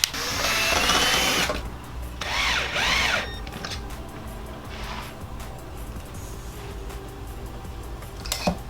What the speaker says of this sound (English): Anytime you screw into ABS, make sure you drill a hole first.